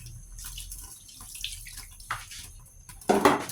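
Water poured into a pot of pork while cooking sinigang, faint splashing and trickling that swells into a louder pour near the end.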